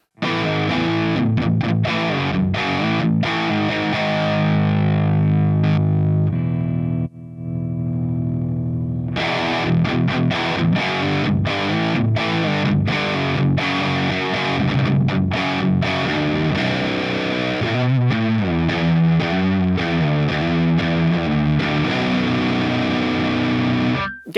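An electric guitar played through a Line 6 Pod Express on its dirge amp model roars with heavy distortion and chorus-like wobble, with sustained chords, a short pause, then choppy riffing, loud and alone.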